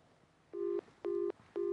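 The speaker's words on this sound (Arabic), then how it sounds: "ايوه معانا تليفون" Telephone line tone for a call-in to a television show, three clean evenly spaced ringback beeps, close and clear over quiet studio background.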